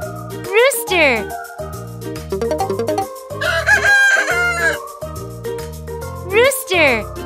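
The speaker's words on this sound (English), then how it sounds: "Rooster." A rooster crows loudly twice, with a long rising-and-falling call near the start and again near the end, while clucking fowl and bright jingling children's music play throughout.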